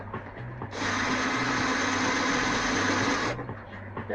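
Drill boring a larger hole through thin aluminium during a 12V electrical refit aboard a sailboat, a steady whirring grind lasting a few seconds, close and fairly loud, with a low hum underneath before and after.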